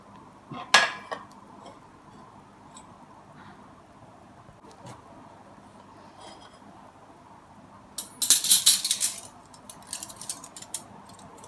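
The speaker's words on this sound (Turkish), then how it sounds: "Boş kaplarımı ilave edirəm." Empty dishes clink against one another at a home party: one brief clatter early on, then a longer burst of rattling crockery after a quiet stretch. No one speaks.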